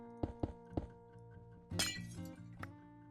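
Red stained glass blocks placed in Minecraft: a quick series of soft, close thunks, three in a row, then a brighter glassy clink with a short burst of higher clatter, with no voices.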